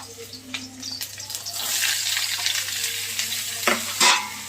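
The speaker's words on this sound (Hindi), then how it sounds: "क्योंकि उड़ता बहुत है कच्चा मिर्ची।" Raw green chili spluttering in hot oil, with a building sizzle and a few sharp crackling pops, close by and mostly alone.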